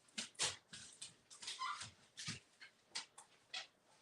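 A dog at a door whimpers and yips in short, repeated, thin cries, close by and quiet, with small pauses between each plaintive burst.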